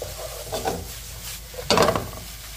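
Lo mein noodles and vegetables stir-fry over high heat with a little sesame oil, giving a close sizzling hiss broken by the scrape and toss of stirring, with a louder burst near the end.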